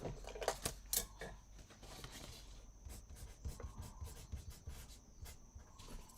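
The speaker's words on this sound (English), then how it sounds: "Let me write the name." Pen writing a paper's name by hand on watercolor paper: soft, continuous scratchy strokes with small taps, close and quiet, no talking.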